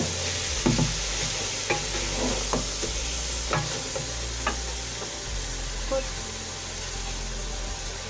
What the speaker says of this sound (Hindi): एक दफ़ा चला लेंगे पालक को गोश्त के साथ कि वो मसाला हमारा नीचे नहीं लगे